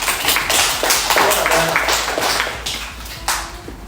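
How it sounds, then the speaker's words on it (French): A school gala audience applauds an award winner, a dense, steady patter of many hands clapping throughout, fading slightly toward the end before a brief renewed burst. "Bravo, Laurence, on l'applaudit"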